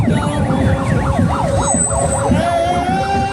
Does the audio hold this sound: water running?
no